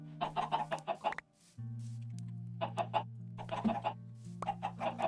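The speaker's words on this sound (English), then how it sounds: "But yeah, these are the chickens." Chickens in Minecraft give clusters of quick, close clucks in short bursts, separated by pauses, over a steady low droning hum of game ambience.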